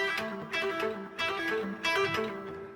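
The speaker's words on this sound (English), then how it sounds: "we checked out this cool string skipping lick with hammer-ons and pull-offs that sound like this" A pentatonic string-skipping guitar lick with hammer-ons and pull-offs plays as quick, rhythmic note runs in three bursts, moderately loud and alone with no talking.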